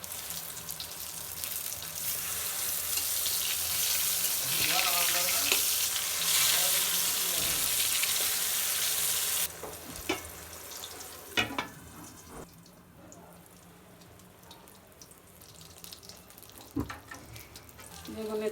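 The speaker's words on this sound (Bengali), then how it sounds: "বেগুনটা এবার আমি উল্টাই দেব।" Eggplant slices sizzle steadily in a frying pan, a loud continuous hiss that drops off abruptly partway through, followed by scattered clinks and scrapes of a utensil against the pan.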